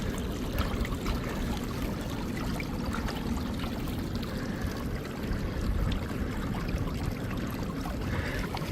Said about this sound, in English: this water flow is even too little for the Dream sluice